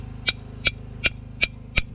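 A hammer taps lightly on material to score it, five evenly spaced sharp ticks about a third of a second apart, close and clear over a low steady hum.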